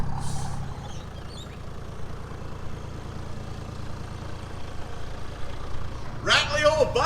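An old Toyota Landcruiser 80 drives along with a steady, loud low engine rumble and a rattly body, with a brief brighter clatter near the end.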